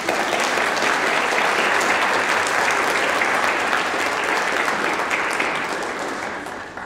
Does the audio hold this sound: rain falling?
no